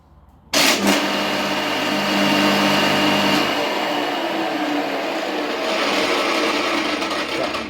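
A Wolfgarden scarifier aerator starts abruptly and runs at a steady, loud pitch, its worn bearings giving off a continuous whining hum that holds and slightly shifts over several seconds.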